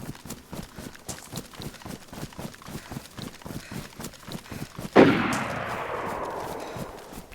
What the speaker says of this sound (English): There's a lot of bullets they're shooting, though.